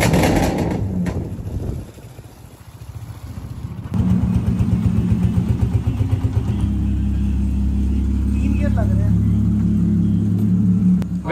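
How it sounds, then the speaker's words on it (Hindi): A car on a trial drive rumbles steadily from inside the cabin, its engine hum and low road noise continuous and close while people talk over it. "तो जनाब गाड़ी की ट्रायल लेके आए हैं"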